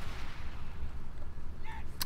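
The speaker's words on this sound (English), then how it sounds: "I think they could have done better with the cannon sounds on these guys" Cannons firing in the Warhammer Total War game during a Dwarves campaign battle: a low, rumbling barrage of booms under a dense wash of battle noise, with a sharp crack at the very end.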